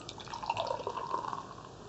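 A strong 7% alcohol convenience-store beer pours into a glass in a steady, gentle liquid stream with light foamy fizz, close and alone without speech.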